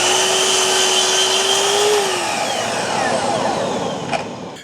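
Laser-equipped miter saw set at 45 degrees cutting lumber, a loud close motor whine that drops in pitch as the blade bites into the wood, then winds down toward the end.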